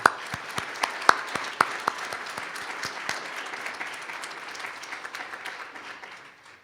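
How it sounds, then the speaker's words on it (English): An audience at an Ohio State University business college centennial ceremony applauds to thank the deans, a soft, fairly distant wash of clapping with a few sharper claps near the start that fades out toward the end. "Would you please join me in applause to thank all the deans for participating in our special occasion."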